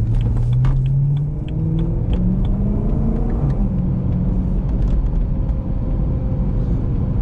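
A BMW on an ordinary road test drive gives off a continuous low exhaust burble and rumble, with engine tones gliding upward as it pulls, close and steady with no talk.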